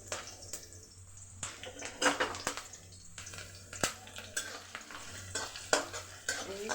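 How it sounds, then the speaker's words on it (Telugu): Sliced onion, green chillies and curry leaves fry in a pan with a soft sizzle, broken by repeated scraping and clinking strokes of a spatula stirring them, fairly close and moderately quiet. "ఇవి కొద్దిగా ఫ్రై అవ్వనిద్దాం."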